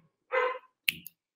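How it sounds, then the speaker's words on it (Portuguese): A pet dog gives a single short bark indoors, close and fairly loud, followed by a brief sharp click and a softer second bark-like yelp, with silence around them. "Desculpa, eu tenho um cachorro."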